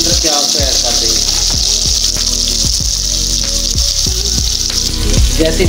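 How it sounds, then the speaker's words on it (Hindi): Onions frying in hot ghee give a loud, continuous hiss and sizzle. Faint tonal sounds run underneath. "सबसे पहले जो हमने घी को गर्म कर लिया है, थोड़ा सा घी डाला है, इसके अंदर प्याज को ऐड कर देंगे"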